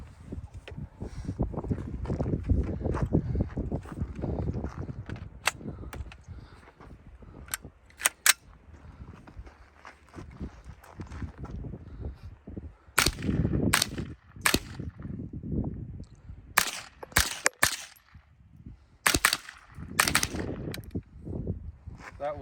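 Suppressed .22lr rifle firing Aguila standard velocity ammo outdoors, a string of sharp, fairly quiet cracks spaced irregularly, some in quick pairs, with wind and faint background noise between shots.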